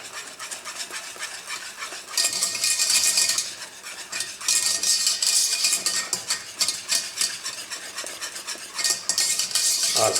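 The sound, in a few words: stirring thickening cream for frangipane galette in a pot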